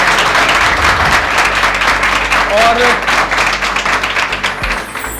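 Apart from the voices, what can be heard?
students applauding a welcome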